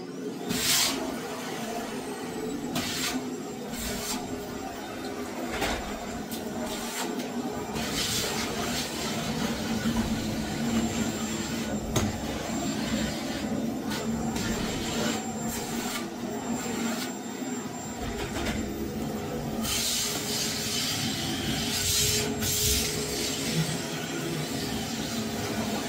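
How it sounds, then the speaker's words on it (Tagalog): A vacuum cleaner runs with a steady, fairly quiet whirring drone, with intermittent brief bursts of louder airflow and faint knocks over the constant hum. "Vacuum na ito isa."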